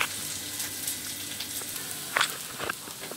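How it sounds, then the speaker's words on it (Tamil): Onions browning in a pan for tomato chutney sizzle and crackle steadily up close, with a couple of sharper spits and stirring scrapes near the end. "வெங்காயம் நல்லா ப்ரௌன் ஆகிடுச்சு."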